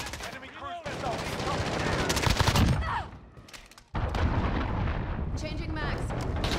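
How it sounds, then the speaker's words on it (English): An enemy cruise missile strike in Call of Duty Modern Warfare team deathmatch brings loud, sustained rumbling explosions and booming blasts, with a short lull before another heavy roar of impacts. "Enemy cruise missile."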